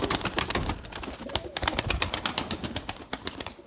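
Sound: pigeons cooing

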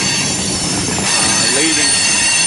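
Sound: BNSF freight train with Santa Fe Heritage unit entering yard

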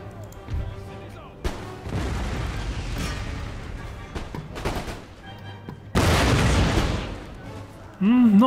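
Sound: cannon artillery fire in video game Empire Total War

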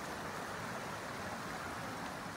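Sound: stream flowing at a campsite

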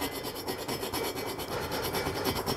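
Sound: fine modelling file reaming a lip out of a valve seat

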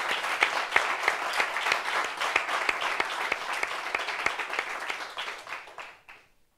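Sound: audience applause

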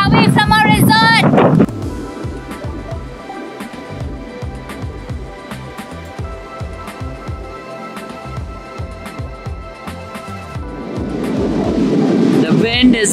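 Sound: strong wind blowing on a beach

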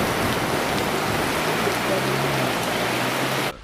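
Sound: heavy rain

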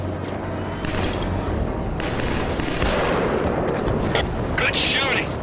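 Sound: gunfire in video game Killzone 3

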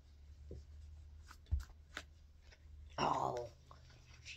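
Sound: shuffling a deck of cards

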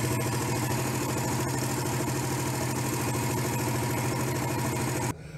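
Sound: Suzuki S 125 motorcycle engine running

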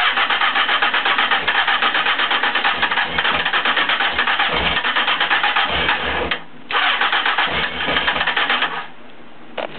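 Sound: Honda CBF600 motorcycle engine starting with choke

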